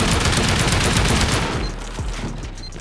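Sustained automatic fire from an X-Flow weapon during a raid in a survival video game, a dense rapid stream of loud shots that cuts off, followed by a few scattered thuds.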